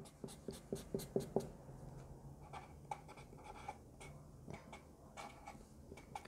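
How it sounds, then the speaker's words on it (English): Pen writing out a maths step on paper, a quick run of light scratchy strokes and taps early on, then sparser faint strokes in a quiet room. "let me write it clearly, that is, I am again writing this step"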